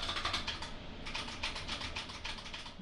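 Fingers type a credit card number on a computer keyboard in quick clustered bursts of light clicking keys, close up and alone with a short pause between runs.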